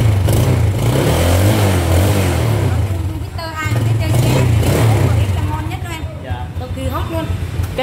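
A Yamaha Jupiter motorcycle engine runs at a used-motorbike dealer, its low steady rumble rising slightly in places, heard close and continuous beneath people talking throughout.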